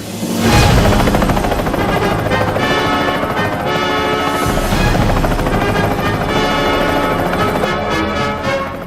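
A helicopter flies overhead with a loud, continuous rotor thump and engine roar, steady and close throughout, in a 1991 action film scene.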